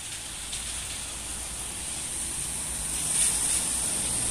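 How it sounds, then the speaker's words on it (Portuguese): Steady rain falling on a cloudy day in Goiânia, heard as a constant broadband hiss that holds evenly throughout and swells slightly near the end, with no voices. "A tão esperada chuva chegou em Goiânia."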